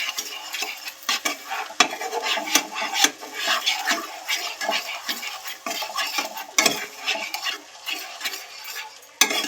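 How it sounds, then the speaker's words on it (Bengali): Spice paste for prawn malai curry is stirred and fried in a pan, with repeated scraping of a spoon against the metal over a soft, steady sizzle, close and continuous, with no one talking. "এবার খুব ভালো করে মশলাটা কষাতে হবে এইভাবে।"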